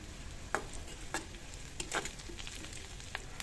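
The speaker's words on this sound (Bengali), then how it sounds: "মুগ ডালটা এখন আমি একটু বাগার দিয়ে দিব, রসুন পেঁয়াজ কাঁচামরিচ দিয়ে।" Garlic, onion and green chili frying in hot oil as a tempering for mung dal, a steady close sizzle broken by several sharp spattering pops and stirring scrapes.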